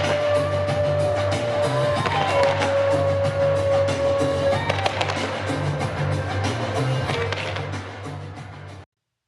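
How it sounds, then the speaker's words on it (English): Fireworks bursting over the ramparts of Valletta's old town, heard as a steady stream of crackling pops and thuds, with a long whistling tone running through the first half and a low rumble underneath the whole time. "we enjoyed a spectacular fireworks display with a backdrop of the ramparts of the old town of Valletta"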